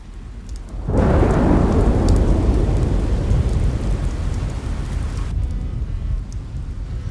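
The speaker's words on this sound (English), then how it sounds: "It's raining." A loud rumble of thunder rolls in after a second of quieter rain, fading gradually while steady rainfall continues underneath.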